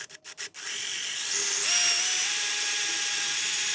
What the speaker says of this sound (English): I stepped it up to a 7/32 drill bit. I'm going to make each of these holes larger